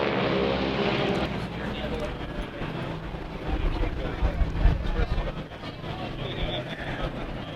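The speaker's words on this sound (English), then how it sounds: "the Rolls-Royce Merlin is an engine that does that. It has a very loud sound, the aircraft travels very fast" Rolls-Royce Merlin engine of a P-51D Mustang aircraft, a loud continuous broadband roar that swells and rumbles, heard under and mixed with speech.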